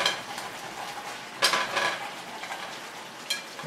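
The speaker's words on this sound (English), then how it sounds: "Give it a quick stir again." Dumplings stirred in a pan, with soft frying sizzle under a few sharp scrapes and clinks of a utensil against the pan, quick bursts scattered across an otherwise quiet kitchen background.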